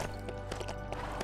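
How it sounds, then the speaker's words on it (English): Horse hooves clip-clop in the LEGO Worlds video game as a white horse is ridden, a quick run of hoof taps over a steady game music and ambience bed. "I'm gonna ride the white horse over."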